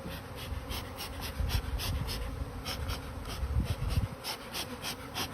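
A bee swarm buzzes steadily and closely, a dense continuous hum with brief louder surges, and no voices over it.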